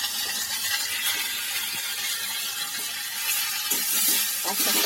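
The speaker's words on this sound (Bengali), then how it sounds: "পাট শাকটাকে ভালো করে ভেজে নিতে হবে।" Jute leaves frying in a pan with onion, chilli and garlic, a steady close sizzle with occasional stirring scrapes and clinks throughout.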